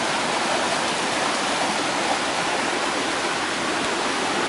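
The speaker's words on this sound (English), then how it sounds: "Beautiful waterfall." A waterfall in Thailand roars as a steady, loud, broadband rush of falling water, continuous and unbroken throughout, with no voices.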